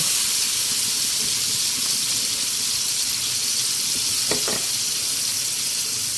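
Pork dropped into a pan of cooked garlic and onions sizzles in a loud, steady hiss throughout, with a couple of brief crackles near the end and no talking.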